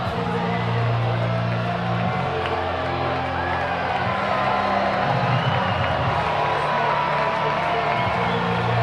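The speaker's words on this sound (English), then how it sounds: "Crowd rises as one, trying to push Noah Skirrow across the finish line" Minor league baseball stadium crowd cheering on their feet in the final inning, a continuous loud roar of voices and whoops, with an announcer talking over it.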